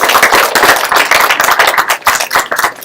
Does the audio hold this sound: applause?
yes